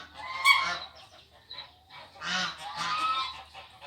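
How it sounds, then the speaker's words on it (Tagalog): Geese on a farm in Wafra, Kuwait honk in loud, nasal bursts, a cluster near the start and another longer run of calls after a short pause, fairly close. "Hindi ko siya bibe. Mga gansa siya."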